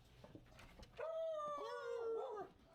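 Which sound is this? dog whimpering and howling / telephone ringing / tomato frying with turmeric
dog whimpering and howling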